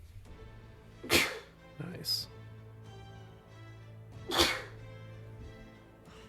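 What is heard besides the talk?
sneeze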